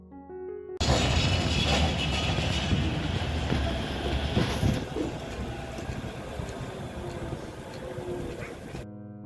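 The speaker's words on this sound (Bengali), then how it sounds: "এই হচ্ছে ট্রাম" A tram running along a street rumbles past steadily for several seconds, loud and close, with rolling rail noise and a broad roar that swells and then eases off.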